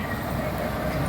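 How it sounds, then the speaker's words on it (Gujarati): A toy train rumbles past at Kankaria Lake in Ahmedabad, a steady near rolling clatter of wheels on rails lasting about a second. "કેવી હે ટ્રેન"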